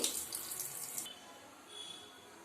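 Tap water runs and splashes into a vessel as black rice is rinsed, a soft hiss for about a second before it stops, quiet and close.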